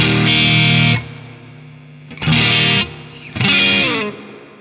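An electric guitar played through a Diezel Schmidt amp with the reverb turned up rings out in three loud distorted chords, each held about a second and trailing into a short reverb tail.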